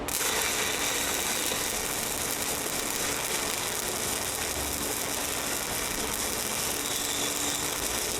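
Vertical stick welding with a 7018 rod on steel plate gives a steady, loud, unbroken crackling hiss with no pauses.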